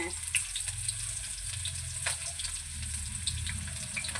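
Steady sizzling of onions frying in hot oil, close by, with occasional crackles and pops and a faint clink of stirring.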